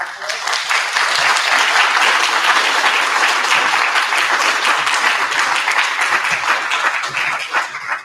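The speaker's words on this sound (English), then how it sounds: "can we give him a round of applause?" A showcase audience gives a sustained round of applause, dense and even, lasting several seconds before tapering slightly at the end.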